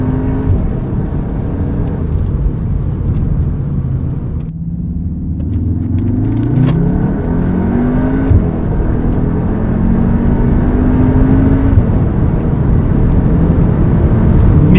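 Cupra Formentor with a 410 hp 2.0 TSI engine accelerating hard from inside the cabin, a loud steady engine roar whose pitch climbs smoothly through the rev range, drops at a gear change and climbs again.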